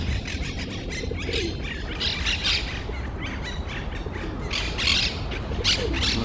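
A kingfisher calls repeatedly, sharp squawking chirps scattered over a steady noisy outdoor background, fairly near.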